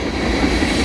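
A northbound Norfolk Southern train rolls past nearby, a loud, dense rumble of wheels on rail with faint rhythmic clatter and no voices.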